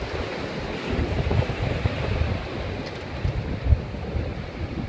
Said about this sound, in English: Here's some footage of the VAR 37 shot in about 30 knots of wind.